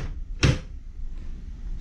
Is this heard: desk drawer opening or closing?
yes